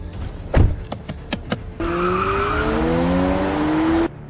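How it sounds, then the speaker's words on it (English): A few quick knocks and clunks come first, then a car drives off with a loud engine whose pitch rises steadily for about two seconds before cutting off, with a hint of tire squeal. "He got back in his car and drove straight to the office."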